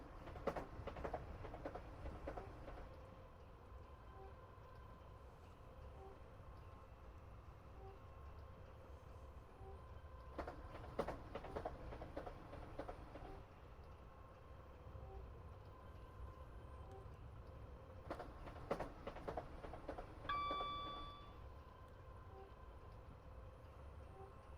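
A train at throttle in the London to Brighton City Flyer simulator, with a steady low rumble and rail noise throughout, a few brief clanking bursts and a short high warning tone near the end.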